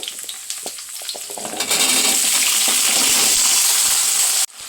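Garlic and shallots frying in oil for a spicy karamani (black-eyed pea) gravy: a loud, close, steady sizzle with a few stirring clicks early on, swelling fuller and denser partway through and holding until a brief break near the end.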